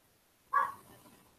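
A single dog bark from a short distance indoors, sharp at first and then fading into a quiet tail, with wind shaking the house audible faintly around it.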